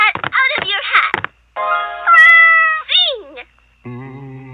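A cartoon cat meows in a long, drawn-out, melodic cry with a rising then falling pitch, loud and close, following a quick burst of high animated chatter.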